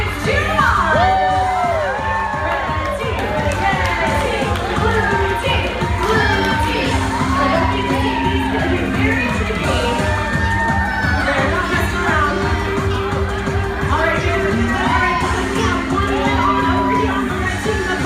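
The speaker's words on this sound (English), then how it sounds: "Audience, cheer them on!" Loud, dense crowd of children cheering, shouting and whooping continuously at a kids' game-show contest as contestants race, sustained and close throughout.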